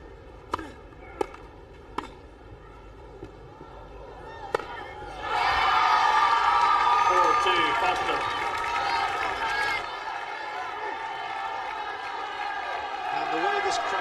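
At Wimbledon in 1993, during a fourth-round tie-break between Sampras and Foster, a few sharp ball strikes give way to a loud, sustained roar of cheering and applause from the tennis crowd, which fades after several seconds as voices continue.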